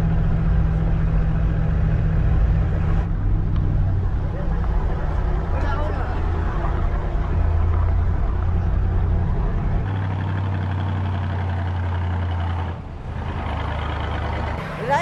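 A 4x4 truck engine drones loudly and steadily as the vehicle drives along a narrow cliffside mountain road in Peru, with a low rumbling hum throughout and people talking over it.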